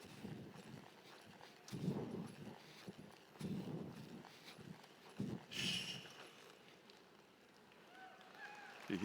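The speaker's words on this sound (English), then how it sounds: "we'll break him off into a lope here and have him come from a lope to a walk" A horse slows from a lope to a walk in an arena at a horse-training event, with faint, distant hoofbeats under crowd ambience and a murmur of voices.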